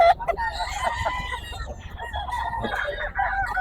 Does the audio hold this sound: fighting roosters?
yes